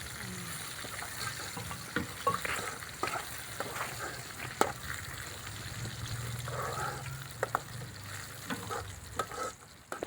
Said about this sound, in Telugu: ఇప్పుడు కరివేపాకు వేసి కరివేపాకు వేసి బాగా వేగనివ్వాలి ఎర్రగా వేగింది